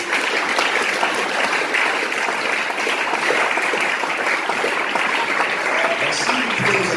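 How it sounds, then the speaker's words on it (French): A church congregation applauds continuously in a reverberant hall, a dense steady clatter of many hands that holds even and loud throughout. "J'aimerais qu'on acclame le Seigneur pour cette parole."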